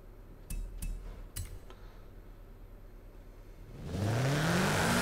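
A Subaru BRZ in the racing game Forza Horizon 5 drives through a city at night, a few sharp clicks and taps over a quiet background before the engine note rises and revs up loudly at the end.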